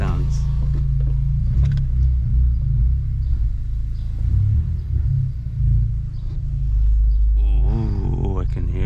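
An 11th-generation Honda Civic with a 27WON turbo inlet, bigger inlet tube and cooler intake gives a loud, steady low engine rumble that swells slightly partway through, heard up close.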